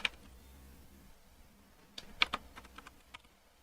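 Computer keyboard keys clatter in a few short bursts, with a single sharp tap at the start and then a quick cluster of clicks after a quiet stretch, close and fairly soft.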